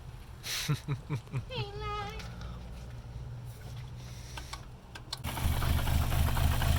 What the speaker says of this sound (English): So all we did is we unplugged the secondary air pump and well, I mean it's running.